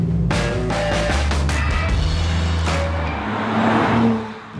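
An Audi RS4 Avant performance estate pulls hard while driving, its engine loud and close with revs climbing in a few rising surges, then easing off near the end, with no talking.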